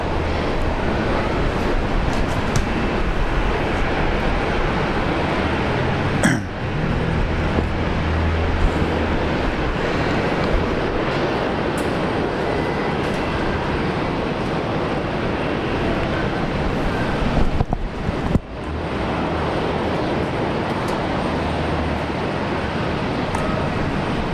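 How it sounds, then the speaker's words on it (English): A Qantas Fokker 100 jet takes off at Brisbane Airport bound for Cairns, its engines giving a loud, continuous broadband roar that holds steady throughout. "That's Fokker 100 there, going up the Cairns."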